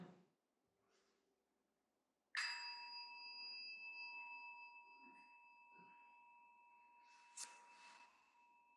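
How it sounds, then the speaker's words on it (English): A single meditation bell is struck at a Sunday spiritual service, ringing out clearly and decaying slowly over several seconds in a quiet room, with a faint second tap near the end. "And I'm going to invite the bell to sound."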